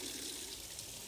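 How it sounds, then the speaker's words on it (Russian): Hot water runs steadily from a kitchen tap in a continuous broadband rush, close and fairly even, with no talk over it. "берешь, да, и наливаешь горячей воды"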